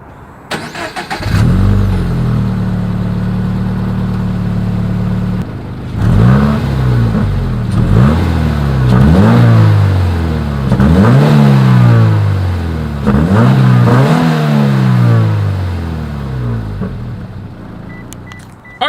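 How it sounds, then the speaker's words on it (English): Exhaust of a 2020 Toyota 86 heard from behind: the engine starts, settles into a steady idle, then is revved in a string of sharp blips that climb and drop back, loud and close with no talking. "Here is that 2020 Toyota 86 exhaust clip."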